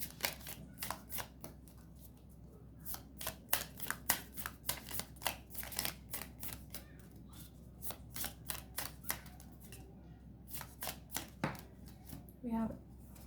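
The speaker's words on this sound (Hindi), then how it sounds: "तो जब तक मैं ये डेक शफल करूँ" A tarot card deck is shuffled up close in rapid, repeated riffling bursts with crisp flutters and brief pauses, while someone talks softly throughout.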